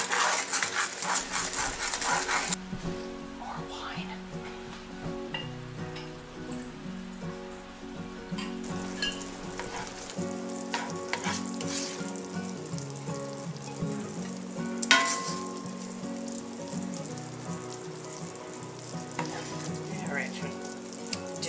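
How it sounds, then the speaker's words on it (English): Brown sugar and bourbon sauce reducing in a pan, a steady bubbling sizzle with occasional stirring clinks, moderately quiet and continuous throughout. "we want to reduce the syrup, the sauce and stuff, so it's almost like a syrup type consistency"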